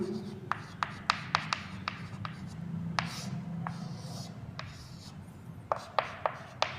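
Writing on a board during a physics class: quick scratchy strokes and taps come in short bursts, close and moderately clear over a low room hum.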